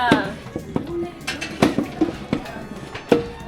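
Pots, pans and metal utensils clatter and clink in irregular knocks during cooking for a wedding feast, close and fairly loud, with voices talking in the background.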